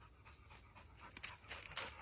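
A dog on a hike pants in quick, rhythmic bursts close by, faint overall, with breaths growing louder toward the end.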